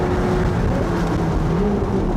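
A 2025 Corvette ZR1 engine roars steadily as it accelerates on the Daytona track, a loud continuous drone with a rising pitch and no voices.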